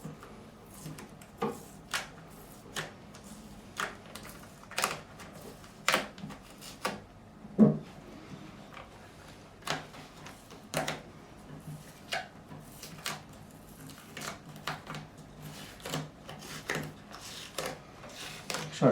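Adhesive tape peeled in repeated short strips off the fretboard of a Japanese-made Aria LW12HB acoustic guitar during a partial refret, a series of sharp ripping bursts at an irregular pace, close and alone without talk.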